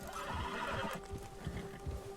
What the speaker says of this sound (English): Pushing G to calm my horse down.